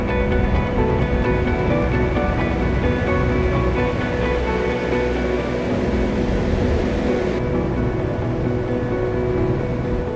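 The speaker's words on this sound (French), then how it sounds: "On entend les vagues venir se briser sur le récif." Ocean waves breaking on a reef off South Africa on a calm sea, heard as a continuous dense roar of surf that holds steady and fairly loud throughout, with no voices over it.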